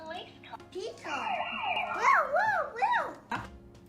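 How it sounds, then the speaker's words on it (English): A children's toy plays a police car siren effect, a bright wailing tone that rises and falls several times at close range, preceded by brief toy voice sounds. "it plays a police car sound after it says police car"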